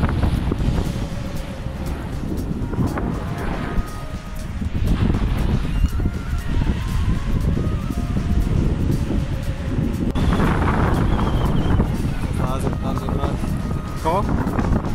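Strong wind buffets the microphone at a paragliding launch site near La Calera, Colombia, a loud continuous roar with people talking under it.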